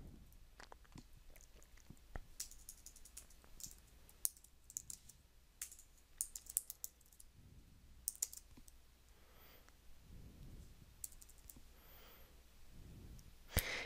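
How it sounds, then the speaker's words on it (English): Typing on a computer keyboard while transcribing: quiet, irregular clicks and key taps run throughout, close and soft, with no voices. "So I'm just kind of typing in here."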